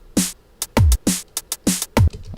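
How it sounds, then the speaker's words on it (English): An electronic drum pattern programmed in Ableton, the third of three loop variations: punchy kick hits alternate with bright noisy snare or clap strokes and short hat ticks in a steady, tight groove, loud and alone. "So what I have here are three different drum patterns"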